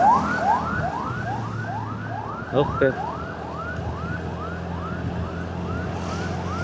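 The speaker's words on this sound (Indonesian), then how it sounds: "Ambulan." A wailing ambulance siren sweeps up repeatedly in a fast rhythmic yelp, passing fairly close on the road in Banjarnegara, Indonesia, with a brief spoken word partway through.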